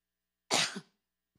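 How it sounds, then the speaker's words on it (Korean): A single short cough from a preacher during a church sermon, close and fairly loud, in an otherwise silent pause. "막 은혜로워서 기침이 올라오네."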